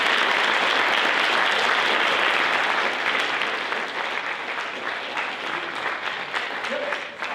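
Sustained audience applause after a motivational speech at a school assembly, a dense wash of clapping that carries steadily throughout and eases slightly toward the end.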